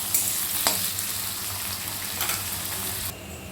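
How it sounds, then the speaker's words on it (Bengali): Sliced onions with a little sugar sizzle and crackle steadily in a hot pan, close and fairly loud, with a brief stirring scrape. "পেঁয়াজটা ভাজার সময়তে দিয়ে দেবো এর ভেতর একটু চিনি"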